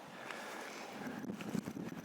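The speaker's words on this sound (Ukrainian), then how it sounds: "Піднявся в нас вітер такий путній." Soft wind rushes and buffets against the microphone during a winter wheat harvest in the Czech Republic, a faint, steady breathy noise with slight gusts.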